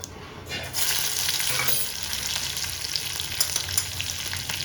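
Curry leaves and chilies drop into a mustard seed tempering for dhokla and set off a sudden, close, crackling sizzle that stays strong and steady, with light popping spatters throughout.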